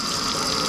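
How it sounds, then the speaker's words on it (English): Cool fresh water running from a tap into a kitchen sink before fish fillets are rinsed, a steady close hiss of flow with no break across the short moment. "So I'll go ahead and fill your sink up with some nice,"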